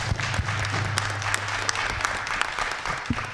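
A virtual community gathering breaks into applause for three admin team members, a steady patter of clapping from a small group lasting throughout, moderately close with a low background hum.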